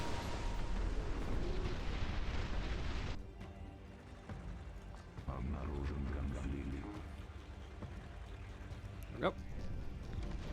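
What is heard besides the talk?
airstrike explosions in Dust Front RTS video game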